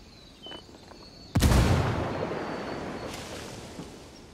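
A frag grenade detonates in Ghost Recon Wildlands: a single loud, sudden blast after a brief quiet lead-in, followed by a long rumbling decay that fades over several seconds.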